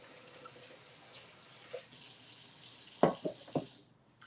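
Hot tap water running into a sink while food is rinsed and swirled, a soft steady flow that stops, followed by a few louder splashes and clatters.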